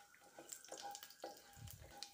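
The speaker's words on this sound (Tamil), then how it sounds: "கடுகு நல்லா பொரிஞ்சு வரட்டும்" Mustard seeds with urad dal and fenugreek crackle and splutter in two spoons of hot oil in a pan, a faint, scattered patter of tiny pops and sizzle.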